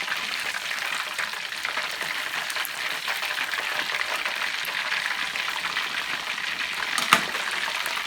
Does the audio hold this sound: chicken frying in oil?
yes